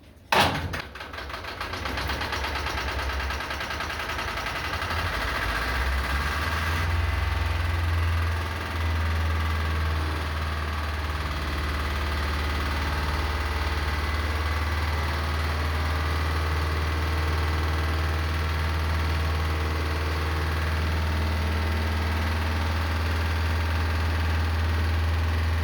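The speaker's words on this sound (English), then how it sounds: "So now the engine is finally running." A Lister engine on an emergency fire pump runs steadily after a hand-crank start, settling into a loud, continuous low thumping idle that holds close and unbroken throughout, with no talking.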